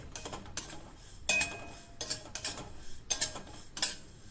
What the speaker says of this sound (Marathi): तीळ सतत हलवल्यामुळे एकसारखे भाजतात